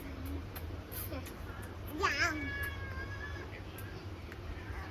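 A cat gives one drawn-out meow, fairly faint, against a steady low hum of background noise.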